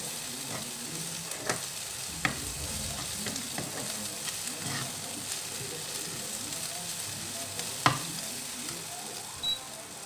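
Ginger being stir-fried in a pan, a constant close sizzle with occasional clinks and scrapes as it is moved about, heard alone with no voices.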